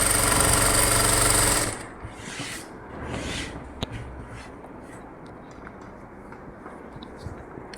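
A sewing machine stitches a fall onto a saree in a loud, fast whirring burst that lasts under two seconds. Quiet handling noises and faint clicks follow.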